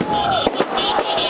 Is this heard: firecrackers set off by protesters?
yes